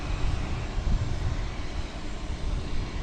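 American Airlines Boeing 737-800 at an airport, a steady broadband engine roar with a low rumble, moderately distant and continuous.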